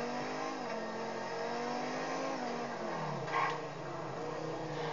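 Engine of the Pegassi Osiris supercar in GTA 5, a steady droning hum with a slight pitch drop partway through, loud and continuous with no talking over it.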